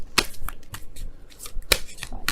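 Tarot cards are shuffled in quick, crisp riffling bursts, close by, with short pauses between flurries and no talking.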